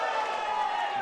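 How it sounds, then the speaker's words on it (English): A basketball crowd at a boys' high school game, Assumption vs. Pacelli, lets out a brief, loud swell of oohs and aahs that fills the gym evenly for about a second. "Some oohs and ahs from the crowd."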